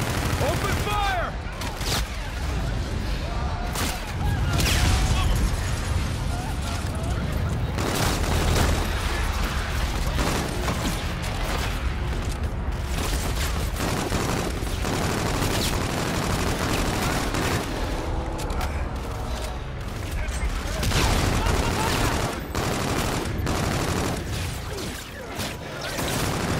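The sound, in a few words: gunfire in video game Call of Duty: Infinite Warfare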